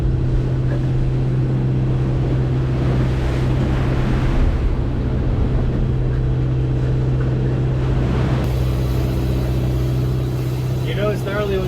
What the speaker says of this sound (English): You know it's gnarly when you get breaking waves and you're looking up at them from the cockpit